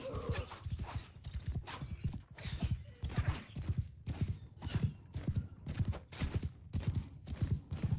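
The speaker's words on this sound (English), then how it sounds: "Horse archers involved." Horse archers' mounts in a video game gallop continuously, their hooves making a steady, rhythmic clip-clop that pulses in loud and soft waves, close by and free of speech.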